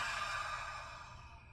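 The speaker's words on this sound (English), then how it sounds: "take a breath in and exhale out the mouth instead" A single long breath is pushed out through the mouth during a yoga breathing practice, a soft airy exhale that fades gradually over about a second and a half.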